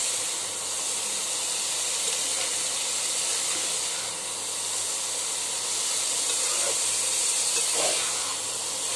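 Cabbage cooks in a pan with a steady, broadband hiss and sizzle that holds constant throughout, with faint stirring clatter near the end and no voices.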